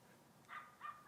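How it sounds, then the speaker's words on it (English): A dog barks twice in the distance, faint and muffled, the two short bursts standing behind a quiet background hum. "Kind of funny if you can hear the dog barking in the background,"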